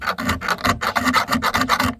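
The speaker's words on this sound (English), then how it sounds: "The old chainsaw file comes in handy" An old chainsaw file rasps back and forth in quick, even strokes, about eight close scraping passes in two seconds on a workshop piece, with no talk.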